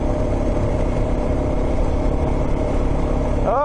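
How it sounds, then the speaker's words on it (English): Motorbikes on sand tracks in Murray Sunset National Park give a steady, rough engine drone close by, with a rising whine creeping in right at the end. "Hey, two bikes. Oh, and another one."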